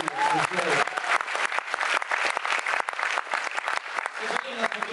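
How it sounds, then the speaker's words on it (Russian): A KVN comedy contest audience applauds a team, brisk, dense clapping that stays loud and even across several seconds, with a brief voice at the start. "Давайте поддержим команду аплодисментов"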